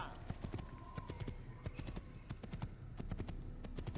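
Horse hooves clip-clop steadily across ground in Assassin's Creed, a fairly quick, slightly uneven gait of close, moderately loud strikes over faint ambient game sound.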